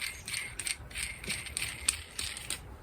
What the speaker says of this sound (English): Then you take this and you screw this nut down on here.